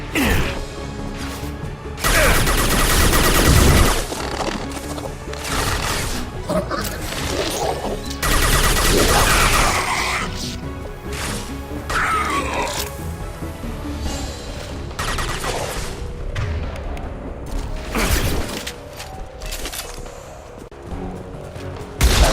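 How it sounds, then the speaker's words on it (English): Heavy gunfire and high-impact shots fill a Mass Effect 2 battle while defending a tower, dense crashing bursts and booms over a constant loud mix of game effects and music. "Firing a high-impact shot!"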